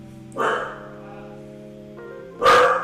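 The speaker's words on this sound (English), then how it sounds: "Oh, there's my doggy." A fluffy corgi lets out two loud, close barks about two seconds apart, each short and sharp, with a quiet, humming room in between.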